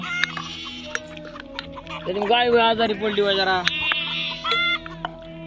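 Chickens cluck and squawk nearby, a burst of louder clucking in the middle, while a person talks over them.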